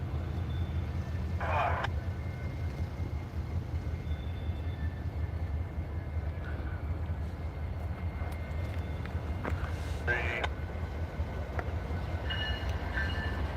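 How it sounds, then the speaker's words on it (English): New York Central locomotives pass each other, a continuous low rumble of engines and rolling railcars with brief brighter squeals or horn-like tones poking out at intervals. "these two locomotives will pass beside each other"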